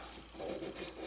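A chisel blade is rubbed across sandpaper on a flat sharpening surface, giving a quiet, brief rasping scrape of about a second.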